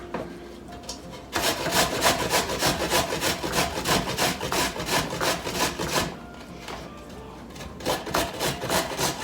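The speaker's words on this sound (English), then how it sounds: "I'm going to grate it with the finer," Food is grated on the bigger slots of a grater in quick rhythmic rasping strokes, close and fairly loud, running in bursts with a short pause partway through.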